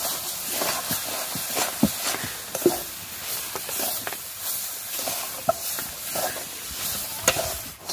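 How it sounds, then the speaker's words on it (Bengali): Fried semolina stirred with palm pulp in sugar syrup for taler rosbora sweets, a continuous hissing sizzle with repeated soft scraping and occasional light knocks of a spoon, close and steady throughout without voices. "এবারে এখানে যে সুজিটা ভেজে রেখেছি দিয়ে দেব, দিয়ে একটু সময় নাড়াচাড়া করে নেব।"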